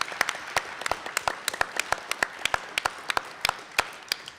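Audience applause at a talk, sparse and uneven individual claps scattered across the moment, fairly faint with sharp distinct hits rather than a dense roar.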